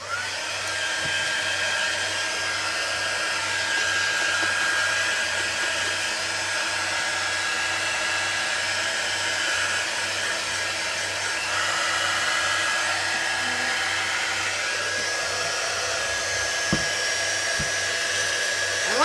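Hair dryer blowing on graffiti paper, a loud, steady close whir with a constant high whine running unbroken throughout.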